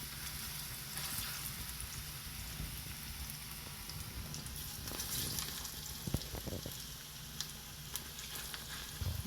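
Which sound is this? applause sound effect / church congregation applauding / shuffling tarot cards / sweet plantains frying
sweet plantains frying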